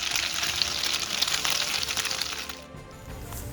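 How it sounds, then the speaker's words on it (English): Bread dipped in batter sizzles steadily in hot oil for Hong Kong style French toast, a dense continuous crackle that holds for a few seconds before easing slightly near the end, with no talk. "Let this fry for about 30 seconds or until golden brown."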